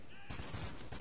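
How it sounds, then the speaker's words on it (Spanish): Rapid bursts of gunfire from a first-person military shooter game, a dense fusillade that starts abruptly and rattles on as a continuous volley, fairly quiet in the mix. "Bueno, disparos."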